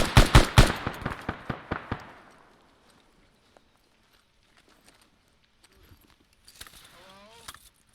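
Suppressing gunfire in the military shooter Arma 3: a loud, close burst of about a dozen rapid shots over two seconds, each cracking and decaying. Near-silence follows, broken by faint clicks and soft sounds near the end.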